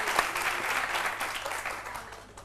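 Sustained clapping from an audience at a live talk event, dense and steady for a couple of seconds before tapering slightly toward the end.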